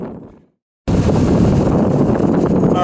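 Strong wind blasting across a Tybee Island, Georgia beach during surf fishing, roaring loudly into the microphone as a steady buffeting rush that cuts in abruptly after a brief quiet moment.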